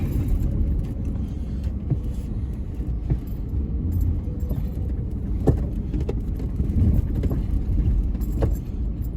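A vehicle pushes through deep sand traps on a dried lakebed camp area at Lake Mead, its engine droning steadily and loud throughout with occasional rattles and knocks.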